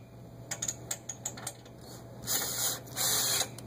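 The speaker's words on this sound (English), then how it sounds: "Okay, deep socket, half-inch deep socket. Just make them tight." A ratchet with a half-inch deep socket tightens bolts during backyard trampoline assembly, giving a run of quick, close clicking strokes, followed by two louder, longer bursts of ratcheting, with no talking.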